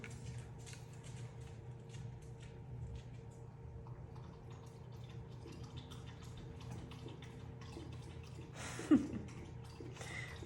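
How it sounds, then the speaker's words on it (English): A dog laps water with soft, quick lapping and dripping, fairly quiet, with a low steady hum underneath and one brief louder splash near the end. "Now she's drinking water."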